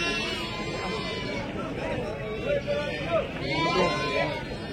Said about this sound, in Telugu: 2 పొట్టేలు ఉన్నాయి, చూద్దాం పండి.